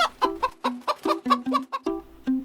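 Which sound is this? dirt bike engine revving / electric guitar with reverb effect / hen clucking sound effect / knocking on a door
hen clucking sound effect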